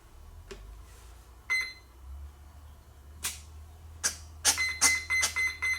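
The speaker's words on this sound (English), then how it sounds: "Once they beep, we'll go to idle." Several short electronic beeps from the speed controllers of an FMS F7F Tigercat model plane during calibration, first spaced apart and then in a quick run of rising tones near the end, over a low steady hum.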